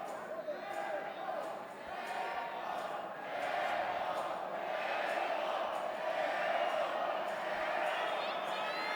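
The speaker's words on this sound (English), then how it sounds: "The crowd chanting, Teco," An arena crowd at a Lux fight event chants the fighter Teco's name in a rhythmic, repeated swell, heard under a commentator's voice.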